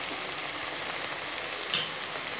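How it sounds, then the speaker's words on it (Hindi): Chicken vegetable pasta frying in a pan, a steady close sizzle with a faint soft tap near the end as sauce goes in. "तो जी यहाँ पे हम डालेंगे अब सॉस"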